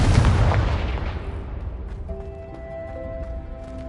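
A Confringo spell explosion in Hogwarts Legacy on PS4 bursts with a heavy, booming blast up front, then rumbles and fades into a ringing, shimmering magical tail with faint tonal hums.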